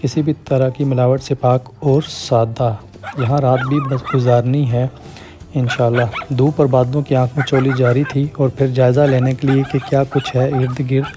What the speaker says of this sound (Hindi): तो सबसे पहले रखवाली के लिए ये कुत्ते जिनका शोर आपको सुनाई दे रहा है